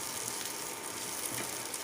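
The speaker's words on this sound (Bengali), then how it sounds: "তো এইবার এগুলাকে ভালো করে ভেজে নেব" Chillies and boiled potato frying in hot oil give a quiet, steady hiss and crackle of sizzling throughout, with no voices.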